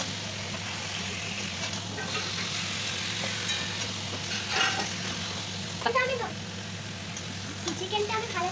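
Marinated chicken sizzles steadily in a spice mixture in a pan, with occasional scraping stirs over the constant frying hiss.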